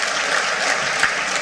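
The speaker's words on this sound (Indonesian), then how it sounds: "tepuk tangan dong buat wisudawan perempuan" Dense, steady applause from a large audience at a university graduation ceremony, cheering female graduates; continuous clapping fills the hall at even loudness with no talk over it.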